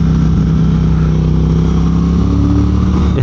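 Triumph Speed Twin motorcycle engine pulling in third gear at low revs, a loud steady throbbing drone with a strong low hum, close and continuous with no talking.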